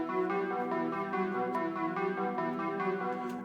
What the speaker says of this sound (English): We're going to be focusing on this melody right here, the strings one.